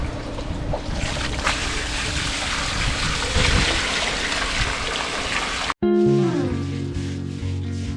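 Water gushes and splashes continuously as it drains out of a backyard crayfish farm filter box, steady and close before cutting off abruptly and giving way to music.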